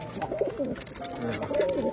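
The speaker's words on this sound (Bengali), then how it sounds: "আর দুটোই কিন্তু বন্ধুরা ভালো বাজির পায়রা" A pair of tumbler pigeons cooing close by, two soft rolling coos, one early and one near the end, over a low room hum with no speech.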